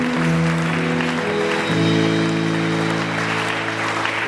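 A church congregation applauding during a Sunday communion service, steady continuous clapping with sustained organ or keyboard chords underneath throughout.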